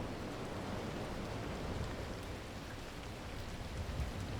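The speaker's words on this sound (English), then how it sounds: "but it's raining" Rain falls steadily in the video game The Last Caretaker, making a dense, even hiss with no breaks and no talking.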